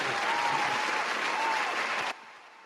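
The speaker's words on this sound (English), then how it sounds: "All right, round of applause to them." A podcast studio audience gives the guests a round of applause, a dense, steady burst of clapping that cuts off abruptly, leaving near silence.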